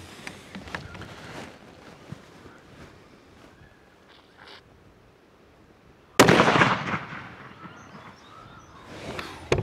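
A .308 rifle fires a 150-grain Hornady round-nose bullet into milk bottles outdoors, one loud sharp crack partway through followed by a ringing decay, with quieter rustling before it.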